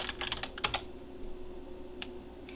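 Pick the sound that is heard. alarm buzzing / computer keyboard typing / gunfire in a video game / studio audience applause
computer keyboard typing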